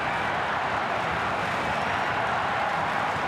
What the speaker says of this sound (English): It's not a huge Friday night crowd, but wow, starting to make a lot of noise.